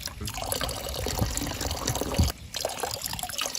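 Hydrogen peroxide pours from a container into a garden pond, making a continuous splashing gush of liquid that stops briefly before resuming.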